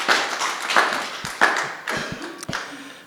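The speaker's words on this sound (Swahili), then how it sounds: "Makofi." An audience claps after a church address, a short burst of scattered, uneven hand claps and taps that thins out and fades over a few seconds.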